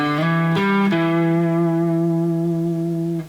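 A short guitar sequence on the low strings, a few picked notes followed by a slide from box 5 up to box 1, ending on a long sustained note that rings out cleanly and close without any talk.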